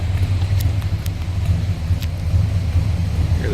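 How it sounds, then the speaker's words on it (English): A 1968 Chevrolet C20 CST pickup with a 396 engine idles nearby with a steady, deep, even rumble and no talking. "Nice little rumble out of that 396."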